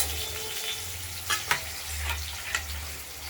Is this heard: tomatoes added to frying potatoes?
yes